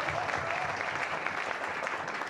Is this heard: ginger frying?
no